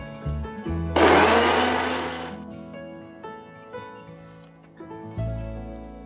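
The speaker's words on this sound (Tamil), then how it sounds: "இப்போ இதையும் கொஞ்சம் கிரைண்ட் பண்ணி எடுத்துக்கலாம்." A mixer grinder blending whole eggs, white and yolk together, for homemade mayonnaise, a loud whirring roar bursting in for about a second and a half, with motor hum before and after.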